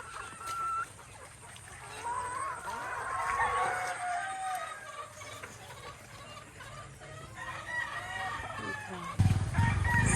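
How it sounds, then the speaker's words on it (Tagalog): Roosters in a pen of male chickens crow and cluck, several overlapping calls rising and falling at moderate distance over a steady farmyard background, with a short thump near the end and no speech. "meron pa dito sa kabilang kulungan ng mga lalaking chicken"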